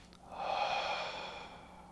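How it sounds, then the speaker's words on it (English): A slow, deep inhalation during a guided attention and breathing exercise, a single airy breath in that swells and then gently fades, close to the mic with no talking. "let's take a deep breath in"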